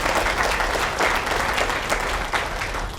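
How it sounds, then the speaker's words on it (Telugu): An audience applauds during a spiritual discourse on the Skanda Purana, with dense, continuous clapping from a large seated crowd that stays loud and even throughout, with no voices over it. "ఇక్కడ మీరు చప్పట్లు కొట్టవలసిన దానికి కాదు"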